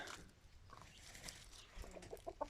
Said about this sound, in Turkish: Horoz çok. Horozlar güzel.